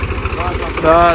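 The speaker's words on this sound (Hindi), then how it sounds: "अब इस साइड से ला रहे हैं ट्रैक्टर को" A tractor engine runs with a steady, low rhythmic throb while pulling an old Thar out of off-road ground, heard close under a man's brief speech.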